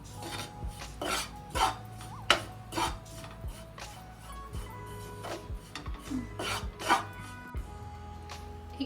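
Spoon or spatula scraping and rasping against a pan while ground spices (coriander-cumin powder, garam masala) are mixed into a stuffing masala for kantola; repeated close scrapes and light metallic clinks in an irregular rhythm, no voices.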